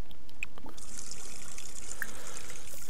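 Shower water runs in The Sims 4 with a steady, loud trickling and splashing hiss, continuous throughout, with faint game sound cues and no speech.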